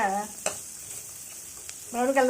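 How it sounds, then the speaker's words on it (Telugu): Onion pieces fry in oil toward browning with a soft, steady hiss and a few faint crackles. A voice is briefly heard at the start and the end. "ఉల్లిపాయ ముక్కలు ఇలా బ్రౌన్ కలర్ వచ్చే"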